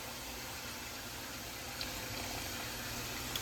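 Water pours into a cooking pan in a kitchen, a quiet continuous rushing hiss lasting a few seconds, with no speech.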